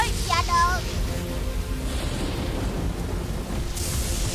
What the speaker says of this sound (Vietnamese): Polly, không dễ dàng đến gần hang bởi vì đang có sấm sét